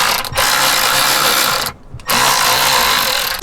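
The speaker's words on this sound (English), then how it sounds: "AJ's under there with the electric ratchet right now" An electric ratchet working loose bolts beneath a junkyard car during driveshaft removal gives a steady close mechanical whirring clatter, with a short pause near the middle before it resumes.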